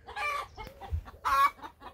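Several chickens cluck close by, a run of short throaty calls with a louder squawk in the middle, no talking.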